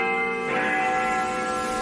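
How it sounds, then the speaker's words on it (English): London church bells ring as a clip in a sound guessing game, a sustained bright clang with long overlapping resonant tones that swell after a brief opening and hold steady to the end. "That's the London Bells."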